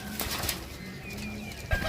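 Farsil-breed pigeons cooing nearby, a few soft low throaty coos over a faint background, with a brief flutter near the end.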